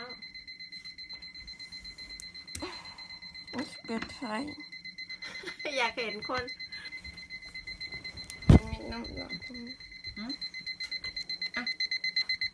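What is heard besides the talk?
alarm clock ringing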